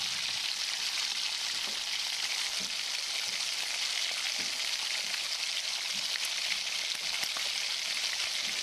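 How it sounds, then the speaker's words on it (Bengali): Boiled peas and potatoes sizzle steadily with spices in a hot pan for Bengali street-style ghugni, a continuous bright frying hiss broken by a few soft scrapes and knocks of stirring. "মটর আর আলুর সাথে মশলাটা ভালো করে কষাতে হবে।"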